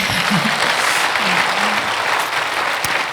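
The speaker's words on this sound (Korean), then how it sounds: "막 박수 계속 치시고" A church audience claps steadily at a thanksgiving night service, a dense, even patter of many hands held at a constant level throughout.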